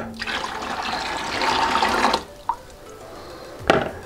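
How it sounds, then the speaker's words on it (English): Tepid water pours into raw honey to start a traditional mead, a steady close splashing rush for about two seconds, then a couple of faint drips and a small clatter. "So in goes our water because we need to mix this up."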